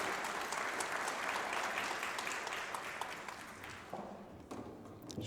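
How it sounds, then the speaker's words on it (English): Steady crowd applause for pool player Melissa Little, "the Viper," after finishing fifth at a professional 9-ball event, sustained and fairly loud throughout, tapering slightly near the end with a few louder claps. "Round of applause for the Viper, Melissa Little."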